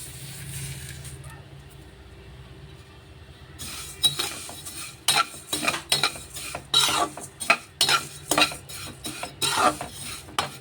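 Vermicelli fries in a pan and is stirred. A faint sizzle comes first, then repeated scraping and clinking strokes of a utensil against the pan arrive in irregular, close bursts.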